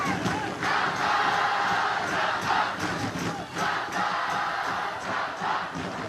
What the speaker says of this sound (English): Just listen to the crowd rising for Samba.